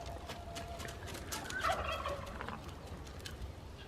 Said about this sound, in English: What is that little chicken doing, Ebby?